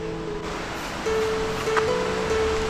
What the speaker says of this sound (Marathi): आपल्याला इथून नदीचा आवाज येतोय